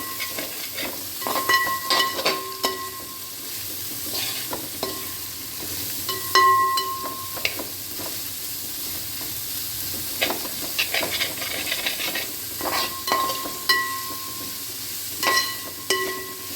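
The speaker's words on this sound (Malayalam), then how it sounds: "നന്നായിട്ട് ഇളക്കി കൊടുക്കാം" Pork frying with three sliced onions and curry leaves, a steady sizzle broken by repeated spoon scrapes and clinks against the pan as it is stirred, close and moderately loud with no talk.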